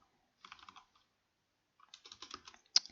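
Someone types on a computer keyboard in two short quiet bursts of rapid clicking separated by a pause, ending with one sharper key tap, close up with no talking.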